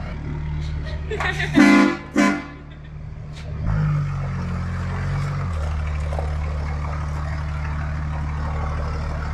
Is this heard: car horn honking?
yes